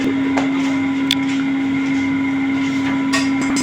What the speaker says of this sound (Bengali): একটা মেশিনে আপনারা মুড়িও ভাজতে পারবেন এবং চালও শুকনো করতে পারবেন